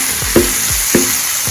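Vegetables for a vegan Philly cheesesteak go back into a hot frying pan, giving a steady sizzle with a few scraping stir strokes close by and no talk.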